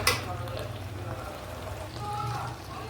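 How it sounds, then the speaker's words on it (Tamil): Meat sizzling as it is added to a pan of sautéed onions, a steady broadband fry with a brief louder burst at the start, continuous and close. "இந்த ஸ்டேஜில் நம்ம கறியை சேர்த்துக்கிறோம்."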